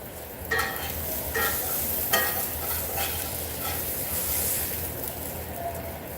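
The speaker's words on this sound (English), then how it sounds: "See how that cheese is nice and melty? It's got a nice sizzle sound to it." Melty cheese sizzles steadily in a frying pan, a close, continuous crackling hiss with a few louder spits and stirring scrapes throughout.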